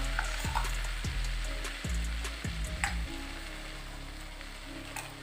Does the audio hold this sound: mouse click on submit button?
no